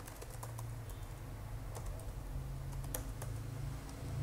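Keys clatter on a computer keyboard while a title is typed in, a quick run of light clicks over steady low background hum, with no talking.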